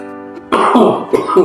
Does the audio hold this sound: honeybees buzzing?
no